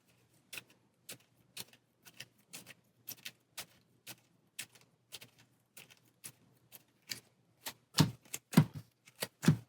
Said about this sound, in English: shuffle up our initiative stack